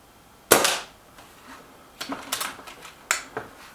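A Reximex Ixia Compact air rifle fires pellets, producing one sharp, loud crack followed a moment later by a cluster of quicker, lighter snaps and a final crisp report, each decaying quickly.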